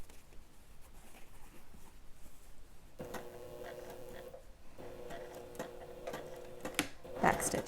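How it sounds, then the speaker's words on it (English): A sewing machine stitches a seam at a half-inch allowance with a 2.5 mm stitch length on a bunny-print dress bodice, giving two steady whirring runs split by a brief pause at moderate, close volume. "And then sew at my 1/2 inch seam allowance."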